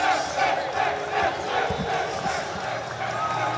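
Parents and spectators cheer and shout after a 12 Open USAV volleyball championship win in Columbus. Broad, continuous crowd noise with excited voices blends together at a steady level.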